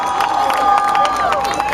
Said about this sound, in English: Let's give him a big warm round of applause as he comes.